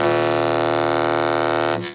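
A synth bass channel sounds a sustained, buzzy, harmonically rich tone without a frequency shifter on it, holding loud and steady for nearly two seconds before cutting off abruptly.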